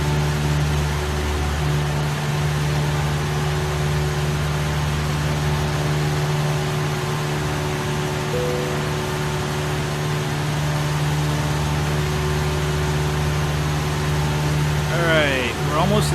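A Cessna C-172 engine drones steadily and evenly throughout in a flight simulator, holding a constant, moderately loud hum with no break.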